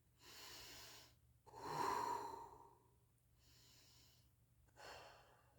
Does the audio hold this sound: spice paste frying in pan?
no